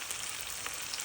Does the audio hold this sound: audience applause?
no